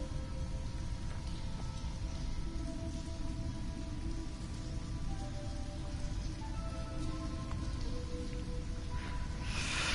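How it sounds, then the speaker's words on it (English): Steady rain falls across an alien planet in the video game No Man's Sky, a dense, even hiss of drops on the ground that continues without a break, with faint tonal game ambience underneath. "I think we're on a rainy planet."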